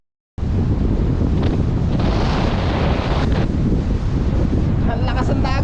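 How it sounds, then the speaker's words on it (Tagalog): Strong sea surf roars loud and continuous, its broadband wash buffeted by heavy wind noise on the microphone, with a faint voice near the end. "Ang lakas ng dagat, oh."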